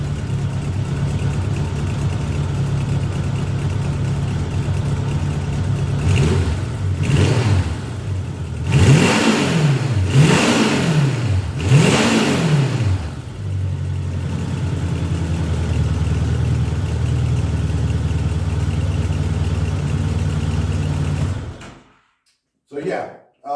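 A Honda Goldwing motorcycle engine idles steadily, is revved up and down several times in rising and falling swells, then settles back to idle before cutting off abruptly; someone talks over it.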